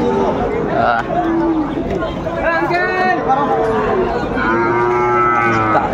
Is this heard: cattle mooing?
yes